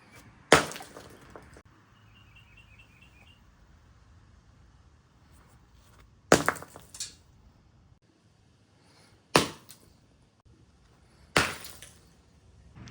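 A frozen block of ice holding a WUBEN L3 flashlight is smashed in four separate sharp, loud crashes spaced a few seconds apart, each with a brief crunching, clattering tail of breaking ice, with quiet pauses between.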